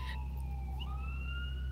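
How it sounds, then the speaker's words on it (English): An emergency vehicle siren wails steadily at a distance, its rising and falling tone sliding continuously over a low, constant background hum, with no talk. "it's a siren"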